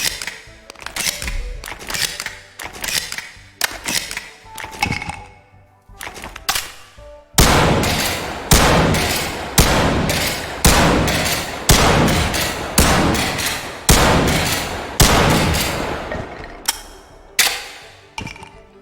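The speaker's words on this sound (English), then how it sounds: "Up next is the Mosenberg. Isn't this like a French shotgun or something?" A Mosenberg shotgun in the VR game Bonelab fires again and again, each loud, sharp blast ringing out close and alone at a fairly steady pace, with brief pauses between a few shots.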